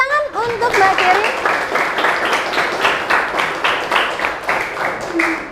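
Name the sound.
applause for a student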